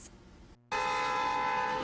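A very long freight-length train rolls by, a loud steady rumble with a sustained horn-like tone after a brief dropout, continuous and close with no talk.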